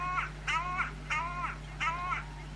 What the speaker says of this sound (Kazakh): Бұл қарғаны ең бірінші біз 2 ай бойы аңдып, таңғы 7-нің кезінде түсірдік.